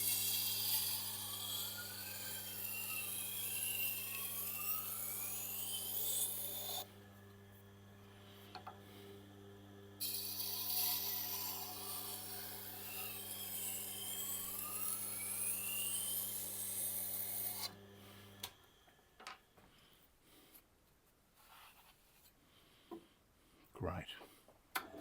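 A kitchen knife is passed along the turning stone of a Tormek sharpener, giving a steady grinding drone with a low motor hum that swells and eases with each pass, then cuts off, leaving faint handling noises.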